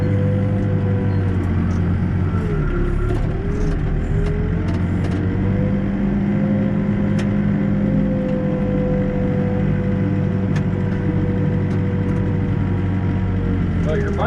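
A backhoe loader's diesel engine runs steadily during backfilling, a loud continuous low rumble with a droning tone that shifts slightly in pitch as the machine works.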